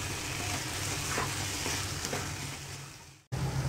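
Schezwan chutney paste sizzles and fries steadily in a pan as it is stirred, a close, continuous crackle with faint scraping and a brief cut near the end; no talking.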